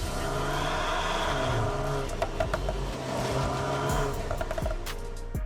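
A car with an upgraded catback exhaust system drones steadily with a low rumbling tone, rising slightly in places, heard close and alone without talk.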